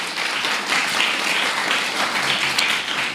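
Audience applause at a Japanese speech contest in Kenya, a brief, dense patter of many hands clapping, steady and fairly close throughout.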